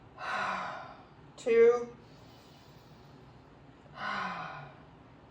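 Deep nasal breaths taken during a fascia neck-tension exercise, two long airy inhale-exhale swells a few seconds apart with a brief spoken count between them, close to the microphone.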